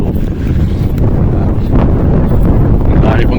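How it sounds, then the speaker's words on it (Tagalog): Loud, strong wind blasting against a microphone in Japan, a constant heavy roar and rumble with continuous buffeting gusts, close and overwhelming. "lakas ng hangin grabing init"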